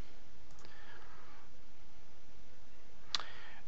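Two faint, sharp computer mouse clicks on a PC, one near the start and one near the end, separated by quiet room hiss with no talking.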